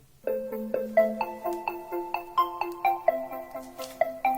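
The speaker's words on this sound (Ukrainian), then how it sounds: "зараз спробуємо відтворити якусь мелодію" A plucked, bell-like electronic melody plays from a phone through a Bluetooth 5.0 audio adapter, clear distinct notes in a steady rhythm, alone and fairly loud.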